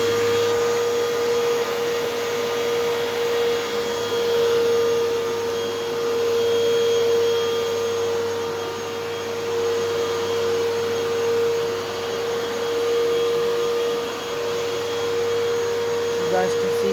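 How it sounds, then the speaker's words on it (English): A Hoover WindTunnel vacuum cleaner runs steadily on carpet, a loud, continuous motor drone with a strong sustained whine, unbroken for the whole stretch with no talking. "Here comes the Hoover Wind Tunnel"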